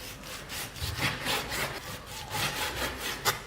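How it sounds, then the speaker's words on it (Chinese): A knife cuts pork belly into bite-size chunks on a cutting board, giving a series of close, repeated scraping and chopping strokes with a sharp knock near the end, with no talk. "切成比较容易下口的块儿"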